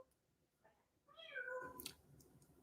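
A pet parrot imitates a cat's meow with one drawn-out, rising-then-falling mew, moderately loud and close, heard against quiet room background with no talking.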